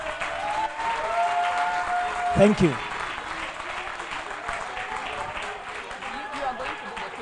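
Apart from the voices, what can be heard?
audience clapping for debate candidates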